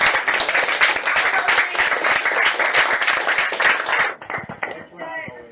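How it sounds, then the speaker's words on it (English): A small crowd at a home event claps enthusiastically in steady, close applause for about four seconds before it fades out and a few people talk. "please clap it up for him"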